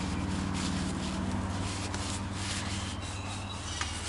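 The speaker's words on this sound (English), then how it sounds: "we're gonna spray that down good. Kind of rub all that old lubricant off." Steady close-up rubbing and scrubbing as old lubricant is cleaned off a mechanical part, a continuous abrasive swishing with a low background hum and no talk.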